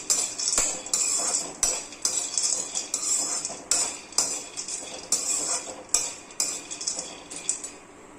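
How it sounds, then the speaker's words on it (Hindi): Adauri bari sun-dried lentil dumplings roasting in a pan, a spoon scraping and clinking against the metal in quick repeated strokes over a soft steady hiss, fairly close and without any voices. "अब हमारा अदौरी बड़ी को हम भून लेंगे। इसे भी हम लाल कलर तक भून लेंगे।"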